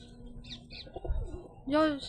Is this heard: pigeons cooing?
yes